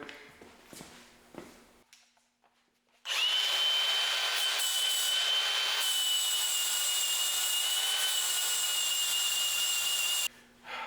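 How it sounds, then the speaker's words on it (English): An angle grinder shapes a fish-mouth notch into the end of a metal tube for a harness bar: a few scraping noises, then a loud steady high whine for about seven seconds before it cuts off. "I'm just going to use a grinder"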